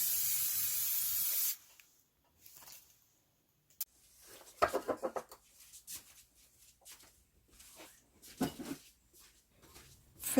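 A spray paint can hisses loudly in one steady burst for a second and a half while upcycling a lid into a tiered tray, followed by quieter scraping and handling noises.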